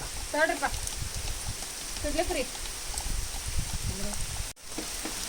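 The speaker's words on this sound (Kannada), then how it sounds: "ಮಳೆ ಬರ್ತಾ ಇದೆ" Steady rain falls at Ramadevara Betta hill near Tumkur, a continuous soft hiss close around a sheltered spot, with faint voices of people talking beneath it.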